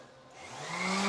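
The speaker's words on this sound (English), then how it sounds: "Maybe I can get in there with the palm sander." A palm sander spins up on a Charger crew cab build, grinding EDP coating off the rear leaf spring perch area; a steady whirring whine rises in pitch and loudness over about a second, close by with no talk.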